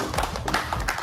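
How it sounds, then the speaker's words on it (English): People clapping hands outdoors at a park fishing competition prize ceremony, a brief patter of quick claps close by. "outside people also clap hands"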